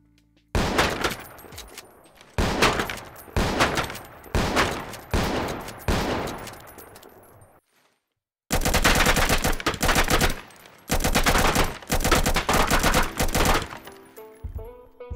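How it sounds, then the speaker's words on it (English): An ACS gun in a Roblox Studio video game fires in loud, rapid automatic bursts. Several volleys come in quick succession, then a short silence, then more sustained fire. "So we're gonna test a gun"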